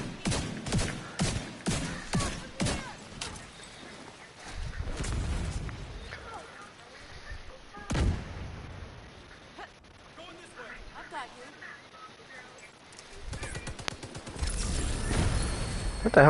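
Gunfire in The Division 2 on PS5, a rapid burst of sharp shots at the start, then scattered single bangs and a closing volley, with talk in between.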